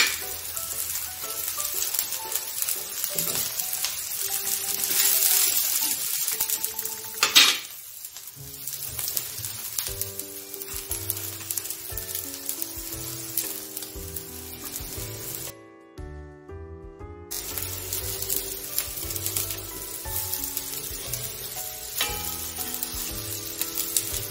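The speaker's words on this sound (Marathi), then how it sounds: "आपल्याला तव्यावर शालो फ्राय करून घ्यायचे आहेत" Ragda patties shallow frying in oil on a tava give off a continuous, moderately loud sizzle with brief gaps, under background music.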